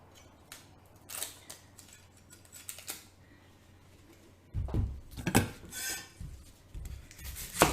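Papery crackles and scraping taps as a Spanish onion is peeled by hand, bursts of dry rustling and clicks growing louder and busier in the second half, with no talk.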